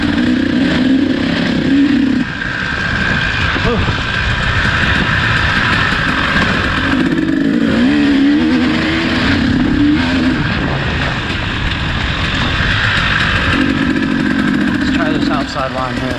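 A KTM two-stroke and a Honda CRF four-stroke motorcycle race in a time trial, engines buzzing and revving loudly and continuously, with recurring pitch swells as the throttle opens and closes.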